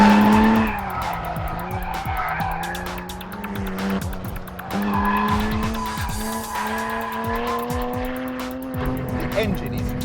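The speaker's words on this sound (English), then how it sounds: "The engine is just lovely, lovely, lovely. It responds and breathes at the top end like a water-cooled engine, like a GT3 engine" A Singer Porsche 911 driven hard on a track, its engine revving and rising in pitch while the tyres squeal through corners, with someone talking over the noise.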